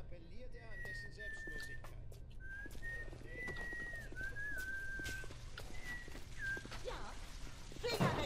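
Strange whistling from the video game BioShock, a run of wavering, gliding whistled notes over a low steady game hum with scattered clicks, moderately loud and continuous.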